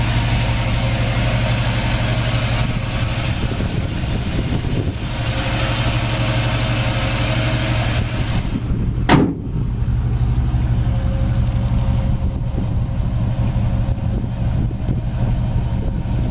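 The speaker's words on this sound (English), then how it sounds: "Engine runs excellent, all new plugs and tune-up." A 1957 Chevrolet Bel Air with a 283 V8 and fresh plugs and tune-up idles steadily with a smooth low rumble for the whole stretch, one brief thump near the middle, no talk over it.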